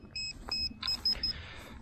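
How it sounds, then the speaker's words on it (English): An RC wing's low-voltage battery alarm sounds a short series of high, piercing beeps in quick irregular bursts, close and fairly loud over a faint background. "Low voltage alarms going."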